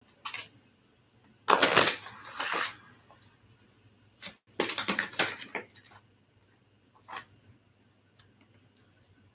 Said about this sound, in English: I'm going to pull a Soul's Journey card.